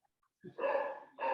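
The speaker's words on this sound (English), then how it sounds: "Apologies for the dog barking." A dog barks twice, near and fairly loud, with a short breathy lead-in before a sustained bark and a second bark about half a second later, at the start of a public airport commission meeting.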